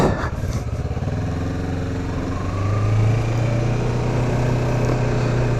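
Motorcycle pulling away in first gear through a residential neighbourhood, a loud close engine rumble that rises in pitch as it gains speed, steady and continuous with no talk.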